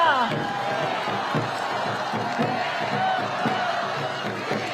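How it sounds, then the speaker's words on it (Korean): A large crowd cheers and claps at an outdoor People Power Party campaign rally in Seoul for candidate Kim Moon-soo. The dense, steady roar holds level throughout, with scattered shouts and whoops rising above it. "김문수 후보께 다시 한번 큰 박수 부탁드리겠습니다."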